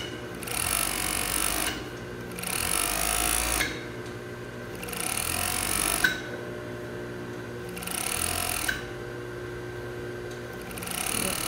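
A serger sewing machine stitches a lined dress seam in four loud, steady runs of rapid whirring, each about two seconds long, separated by short pauses.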